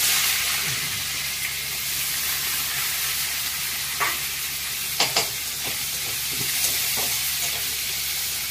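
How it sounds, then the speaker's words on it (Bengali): Onions frying in a pan for a village-style Bengali fish chorchori, a steady sizzle with occasional stirring clicks and scrapes, close and continuous with no talk. "পেঁয়াজটা একটু ভেজে নিই"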